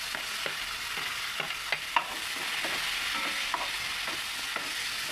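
Onions and green chillies frying in hot oil, a constant close sizzle broken by frequent light stirring clicks and scrapes of a spoon against the pan.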